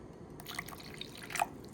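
Water or milk trickles and drips into a bowl of thick yogurt, a few soft, faint liquid drops and splashes close by in a quiet kitchen.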